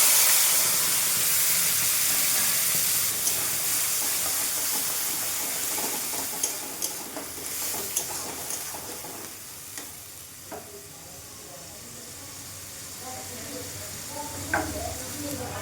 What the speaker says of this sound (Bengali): এবার পেঁয়াজ রসুন আদা বাটাটা দিয়ে দিচ্ছি।